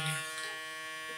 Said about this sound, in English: Super quiet motor on the shaver also.